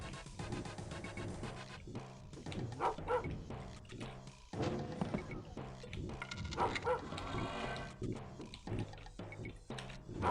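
Dogs bark and yip repeatedly in a Rise of the Triad retro shooter game level, mixed with music and game effects throughout.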